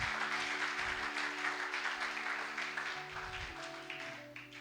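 A church congregation claps together in sustained applause, a dense steady wash of hands over a held musical tone, fading slightly toward the end.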